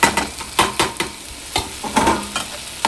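Sundal with coconut, mango and ginger is stirred in a pan with a spoon, giving quick scraping strokes and clattering knocks in an uneven rhythm over a light sizzle, close up and with no talking.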